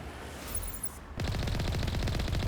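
Rapid automatic gunfire aimed at turrets in Mass Effect Legendary Edition erupts abruptly after a quieter stretch, a fast close rattle of repeated shots continuing to the end.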